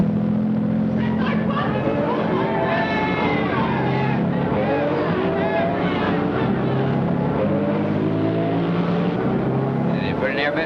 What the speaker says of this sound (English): Hey, there goes our bus.